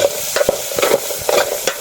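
Field insects roasting in a leaking pot over a strong open fire, giving a dry crackle with scraping stirs that come back about every half second, close up and with no voices.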